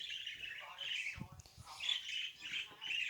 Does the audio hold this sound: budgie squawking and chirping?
yes